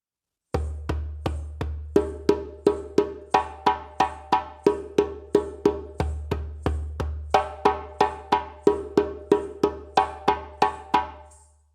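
A djembe is played with alternating hands in a looping bass, tone and slap exercise: resonant low thumps mixed with sharp, ringing strokes, evenly spaced and close.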